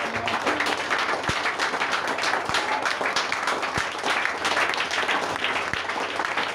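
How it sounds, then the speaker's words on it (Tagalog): A congregation at a Sunday church service breaks into loud, sustained applause, a thick crowd of claps with a few sharp nearby hits standing out, steady and close from start to finish. "Malakas na palakpak po."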